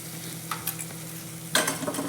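Ginger-garlic paste with turmeric being stirred and fried in a pan, a low steady sizzle broken by a few scraping spoon strokes and a louder clatter of stirring near the end, with no voices.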